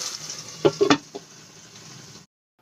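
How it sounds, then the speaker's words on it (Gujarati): Onions sautéing in a pan until reddish for moong dal with spinach: a soft, close sizzle broken by a few sharp utensil clinks, ending abruptly in silence. "તો ડુંગળીને આપણે સરસ રીતે લાલ થાય ત્યાં સુધી સાંતળી લઈશું।"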